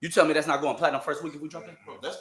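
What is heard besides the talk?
No everyday noises stand out.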